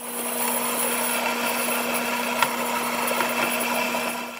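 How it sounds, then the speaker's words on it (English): A bandsaw rough-cuts a metal adaptor plate, giving a steady, loud, close grinding whine with a constant tone and a few sharper scrapes and ticks as the blade bites. "back to the bandsaw now to finish up the rough cut"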